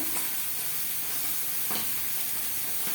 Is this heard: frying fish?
yes